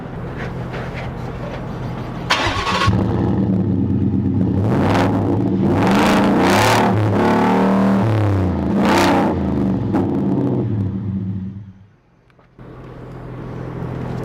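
A Ford F-150 Roush pickup with a 5.0 liter V8 rumbles deeply and revs hard several times in a row, loud and close, the roar dipping briefly before settling back to idle.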